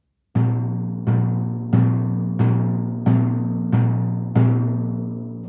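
Timpani struck with smooth legato strokes, seven evenly spaced notes each ringing with a clear sustained pitch and long decay, close and solo.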